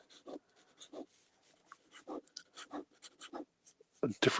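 A heavy fountain pen scratches across paper in short, separate strokes, faint and close, ending in a louder rustle.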